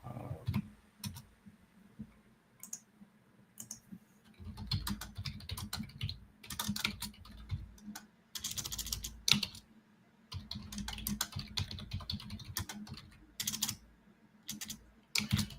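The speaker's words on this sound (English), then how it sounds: "You probably just hear my keyboard going crazy" Rapid bursts of typing on a computer keyboard, close and fairly quiet, with clustered clicks separated by short pauses and irregular rhythm throughout.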